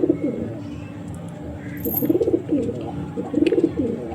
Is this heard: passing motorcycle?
no